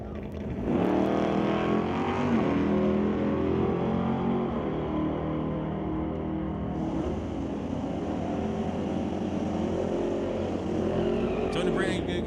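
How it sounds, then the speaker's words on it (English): A Corvette and a Nova roar through a drag race at Mission Raceway Park, engines droning loudly and steadily for several seconds under an announcer's voice. "The Corvette versus the Nova."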